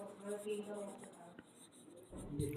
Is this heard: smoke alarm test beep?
no